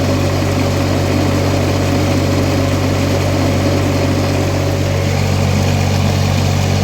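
A diesel tractor engine runs at a steady idle, a loud continuous low drone with constant hum and no change in rhythm throughout, close by and without talk.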